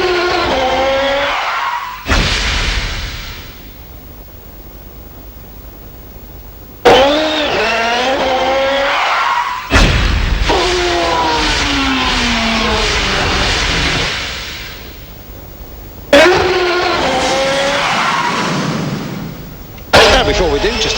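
Champ Car race cars roar past on the temporary Las Vegas street circuit, several loud engine passes with rising and falling whines, each car cutting in abruptly and fading as it goes by.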